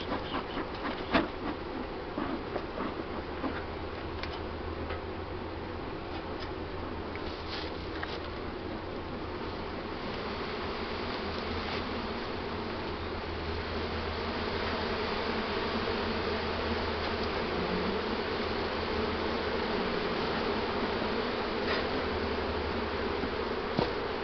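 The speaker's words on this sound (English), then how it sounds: "Let's smoke all these bees." Honeybees in an open hive hum steadily as they are smoked during a varroa mite treatment, a faint, even drone that builds slightly and has no talking over it.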